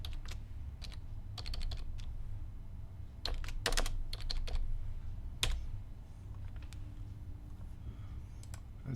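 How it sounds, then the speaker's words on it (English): Bursts of clattering keystrokes on a computer keyboard, close up over a steady low room hum during a morning live stream, with pauses between the runs of typing. "Let's type."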